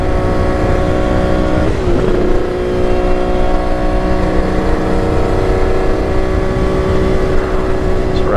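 A Kawasaki KH500 H1 two-stroke motorcycle accelerates under load, a loud, close, steady engine drone with a brief dip in pitch partway through as it shifts, then pulls on without any talk.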